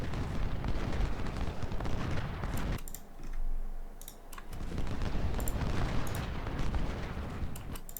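Cannon artillery fire in Ultimate General Civil War at the Battle of Chancellorsville: dense, continuous rumbling booms with scattered sharp cracks, dropping briefly to a lower roar mid-way before the barrage resumes.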